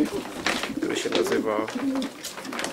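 Pigeons cooing near a racing pigeon loft, soft repeated coos mixed with other bird calls, with people talking over them throughout.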